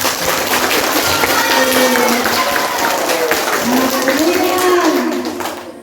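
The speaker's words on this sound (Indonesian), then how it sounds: "Masya Allah, tepuk tangan." Schoolchildren at an elementary school dhikr gathering clapping together, a loud, dense wash of applause with excited children's voices and shouts mixed in, steady for several seconds before tapering off.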